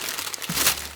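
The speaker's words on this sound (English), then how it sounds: "I love unwrapping things." Wrapping paper crinkles as a gift is torn open, a short close burst of crisp rustling.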